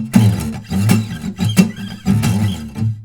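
Electric guitar played with a string slide down the 6th string: a low, gliding squeal over a rough, rhythmic riff, loud and close, with repeated surging swells and no voices.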